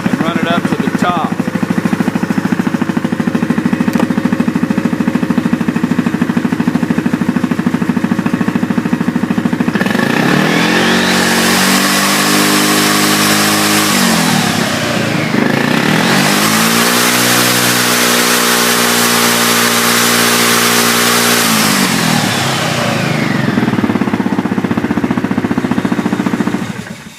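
Yamaha Wolverine engine idling, then revved hard twice toward top speed through its belt drive: a rising, roaring engine note that climbs, drops back and surges again, loud and close.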